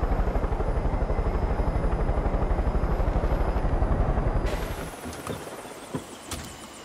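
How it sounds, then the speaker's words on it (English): Helicopter flying in the video game Far Cry 5, a loud close rhythmic rotor thump with engine whine that fades out, leaving a few scattered knocks and clicks. "stealthily come in via chopper"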